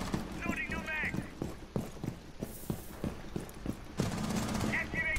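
Rapid gunfire from a Rainbow Six Siege firefight, a run of sharp repeated shots with a burst at the end, under excited voices and game chatter.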